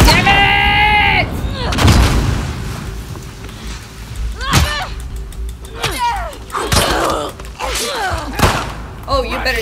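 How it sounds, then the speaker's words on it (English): Loud grenade blast and gunfire in The Last of Us Part II, a heavy boom followed by repeated sharp shots and thuds, with players' voices shouting over the combat. "Grenade!"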